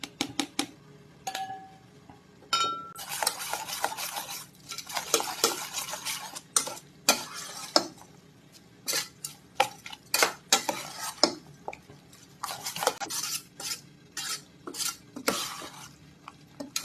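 Vegetables stirred in a pan, with repeated sharp clanks and scrapes of a utensil against the metal in an irregular rhythm, close up, over a faint sizzle and no talk.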